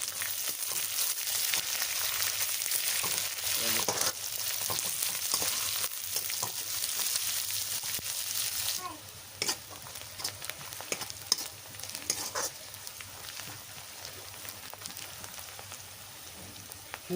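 Onions fry in a pan for chicken gravy, giving a continuous close sizzle that drops noticeably quieter about halfway through, with occasional light scrapes and taps of stirring.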